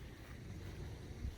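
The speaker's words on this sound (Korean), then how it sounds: "물소리도 들리죠?" Water running along a concrete drainage ditch beside a house on a rural plot, a steady broadband wash with low rumble and some wind noise, continuous and fairly close throughout.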